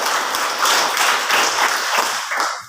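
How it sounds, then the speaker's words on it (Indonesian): A classroom of pupils claps together in a brisk burst of applause lasting a few seconds before it trails off. "Tepuk tangan untuk semua dulu."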